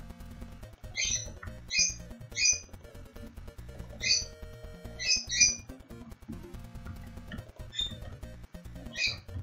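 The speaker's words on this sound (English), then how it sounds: "the male bird is the one who's making most of the noise" A male bird gives repeated short, sharp squawks in loose bursts of two or three calls, fairly close and loud, over a low indoor background hum.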